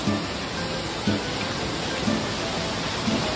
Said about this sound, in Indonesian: Indonesia, when it's raining like this, you don't really need an umbrella.